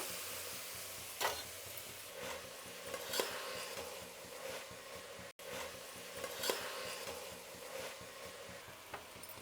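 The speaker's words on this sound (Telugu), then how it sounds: "ఇప్పుడు గింజలు, కాయలు, మసాలా అంతా వేగాలి" Seeds, nuts and masala fry in a pan for a Karnataka-style dish, giving a soft, steady sizzle broken by occasional scrapes and clinks of the stirring spoon against the metal; quiet and close.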